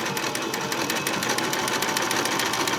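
Sewing machine running a stretch stitch, a continuous close mechanical whir with fast rhythmic ticking from moving parts, steady and loud throughout with no voices.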